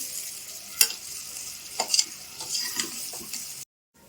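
Fried rice being stir-fried in a hot pan, with a steady sizzle and sharp spatula scrapes and clinks repeating through the clip before it cuts to silence.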